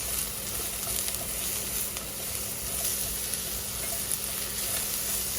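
Beef, broccoli and mushroom stir fry sizzles steadily in a pan while being stirred, a continuous bright crackling hiss with faint scraping throughout, no voices.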